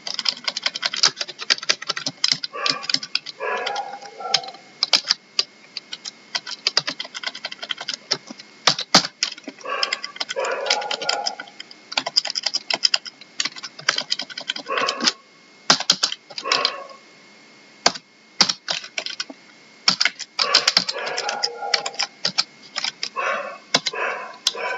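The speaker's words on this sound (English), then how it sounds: "from next time I will copy and paste because typing it is taking so much time." Steady typing on a computer keyboard in rapid bursts of clicking keystrokes with brief pauses, fairly close and alone without talk, plus a few sharper clacks.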